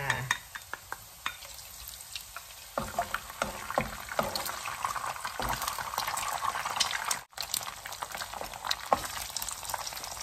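Eggs with crushed garlic fry in a hot pan, giving a dense, steady sizzle with frequent stirring scrapes and clinks throughout, close and fairly loud, with no voices.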